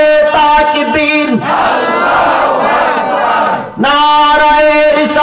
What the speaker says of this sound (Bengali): তাদেরকে আমরা স্বাগত জানিয়ে একবার তাকবীর দেই